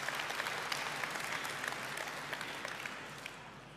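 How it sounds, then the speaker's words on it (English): A full audience claps in a round of applause at a Samsung Galaxy Note II launch event. The clapping is dense and sustained and fades slightly toward the end. "give us a round of applause for that"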